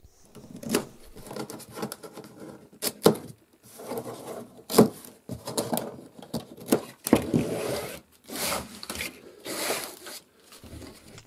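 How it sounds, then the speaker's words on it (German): Cardboard box of emergency food being unpacked, close irregular rustles, scrapes and knocks of packaging coming in bursts with brief pauses. "Wir werden jetzt diese Schachtel gemeinsam auspacken"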